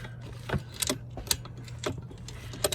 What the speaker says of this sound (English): And so now I'll just tighten the bolt with a 17mm.